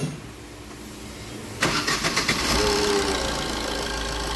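A car engine repaired after a broken timing chain and camshaft cranks briefly with the starter, catches, and settles into a steady idle that continues to the end.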